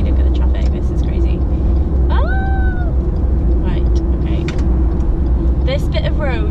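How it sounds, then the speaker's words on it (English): Busy road traffic heard from inside a moving car, a steady low rumble of engines and tyres throughout, with a few higher squeals and tones rising briefly above it near the middle and end. "look at the traffic, this is crazy"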